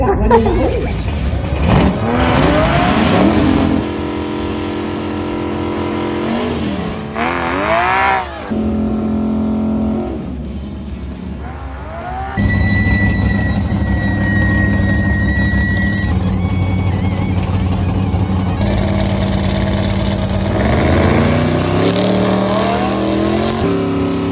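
Engines rev and accelerate during drag races in the Rust Valley Restorers video game, loud rising and falling pitch sweeps with gear-shift breaks, a sustained high whine midway, and speech mixed in over the engine noise.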